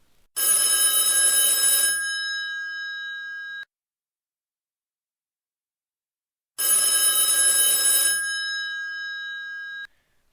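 An old-fashioned telephone bell rings in two long bursts of about three seconds each, separated by a silent pause, loud and close with a lingering metallic tone.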